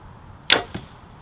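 A single arrow shot from a Hoyt RX-7 Ultra compound bow: a sharp, quick release thump followed by a softer second snap, quiet and close, with no talking.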